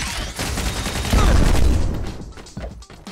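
Rapid bursts of gunfire in the GI Joe Operation Blackout video game during a fight with Zartan, with dense, overlapping shots that swell loudest midway and then thin into scattered reports, close and continuous.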